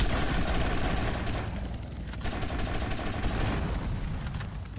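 Sustained rapid gunfire in GTA Vice City as a helicopter is shot down, a loud dense rattling burst running continuously over a heavy low rumble, with no talking.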